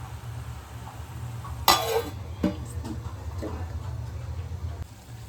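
A lid set onto a pot of cooking spiny gourd curry gives one clear metallic clink, followed by a couple of softer knocks over a steady low kitchen hum.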